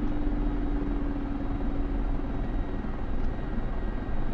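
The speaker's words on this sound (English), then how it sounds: "Stop the helicopter, dude." Mi-24 Hind attack helicopter in the DCS flight simulator, a steady loud rotor and turbine drone running without a break, close and constant with no talking.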